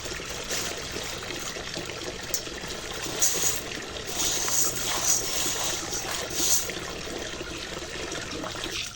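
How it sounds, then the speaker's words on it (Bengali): Water trickles and pours onto soaked thin rice, a continuous close splashing stream with brief louder surges, steady throughout. "চালে জল দিয়ে দেবো"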